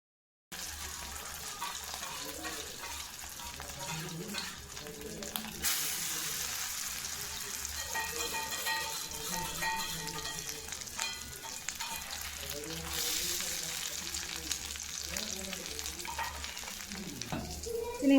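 Chicken shami kebabs dipped in egg sizzle steadily in a pan, a continuous frying hiss with occasional stirring and utensil clinks throughout, fairly close and even in level.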